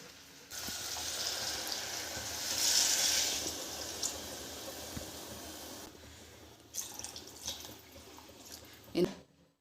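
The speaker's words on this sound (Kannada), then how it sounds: "ಈಗ ನೀರು ಹಾಕಬೇಕು." Water pours into a pot of seasoned rice for a tomato rice dish, a continuous splashing rush that stops partway through, followed by a few soft clunks of a vessel.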